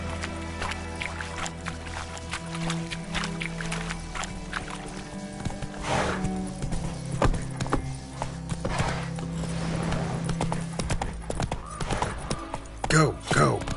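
Hooves of a horse from The Witcher 3: Wild Hunt clip-clop steadily at a gallop through the whole stretch, with a voice urging it on and a brief whinny-like flourish near the end.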